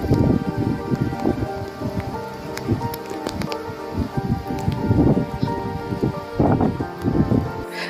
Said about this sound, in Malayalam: ഫുള്ളും മഴ പെയ്തുകൊണ്ടിരിക്കുകയാണ്